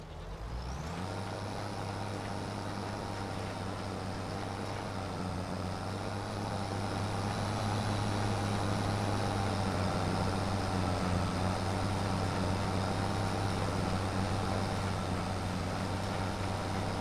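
Tractor engine in Farming Simulator 25, a steady low diesel drone with a high whine that rises and settles in the first second, holding loud and constant for the rest of the clip with no talk.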